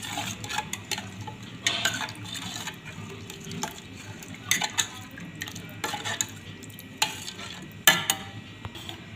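Buttermilk being stirred into sambar in a cooking pot, with steady soft scraping and clinks of a spoon against the metal and occasional sharper knocks over a quiet, faintly bubbling background.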